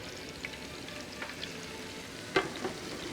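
Pork trotters sizzle softly in a pan, a steady low frying hiss close by with a few light clicks and one brief clatter, no talking.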